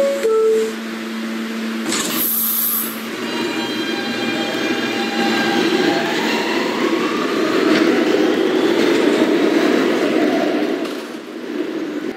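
A Brooklyn-bound New York subway F local train rumbles and whines steadily as it moves, with rising motor tones and a brief high squeal near the start, loud and close.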